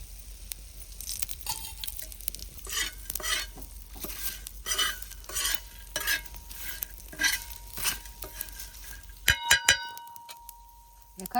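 Garam masala dry-roasting in a pan with repeated rhythmic stirring and scraping strokes, a light sizzle between them, and a few metallic clinks near the end.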